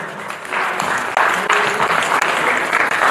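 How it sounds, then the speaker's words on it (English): A crowd at a language day celebration bursts into loud, close applause, a thick continuous clatter of hands with slight swells and dips throughout. "put your hands together,"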